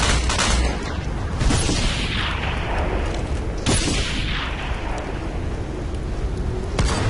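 Sniper rifle shots ring out in Ghost Recon Phantoms, a few sharp loud cracks spaced seconds apart, each trailing a long echoing decay over steady battlefield rumble.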